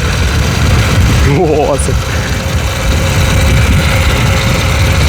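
A homemade electric bicycle driven by a sewing machine motor hums steadily and loudly throughout as the clutch is let out, with a brief mechanical ratcheting sound and a short spoken exclamation partway through.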